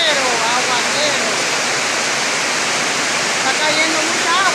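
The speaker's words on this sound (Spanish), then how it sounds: "Está cayendo mucha agua, miren. Está lloviendo duro." Heavy tropical downpour pounding steadily near the Junquillo area, a dense continuous roar of rain without pause, close and loud throughout.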